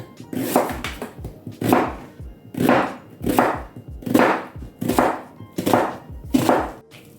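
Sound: finely chopping onion into rings

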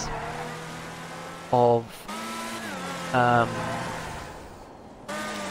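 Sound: Deveste Eight car driving in GTA Online video game

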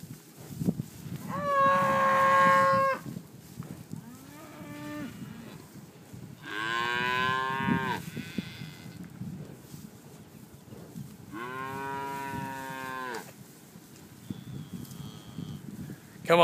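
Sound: cattle mooing

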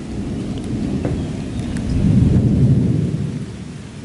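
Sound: thunder during a storm

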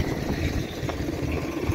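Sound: tractor-driven belt spray pump machine running

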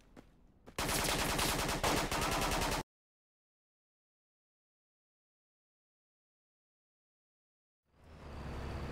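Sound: distant rifle gunshots in a video game

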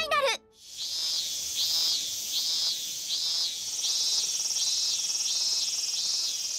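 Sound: cicada chirping, from an anime movie trailer

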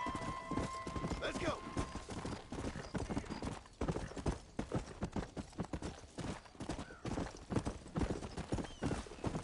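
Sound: horse hooves galloping in video game Red Dead Redemption

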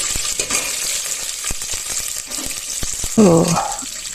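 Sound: whole spices frying in hot oil

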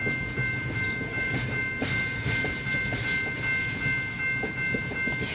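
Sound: single-locomotive freight train passing

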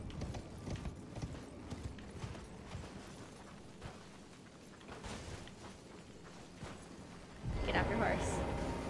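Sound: horse galloping in the video game Elden Ring

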